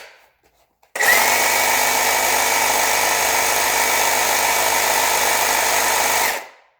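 A repaired Milwaukee Super Sawzall 2722-20 reciprocating saw, held upside down, starts abruptly after a few faint clicks and runs at a loud, steady buzzing whine for over five seconds before winding down.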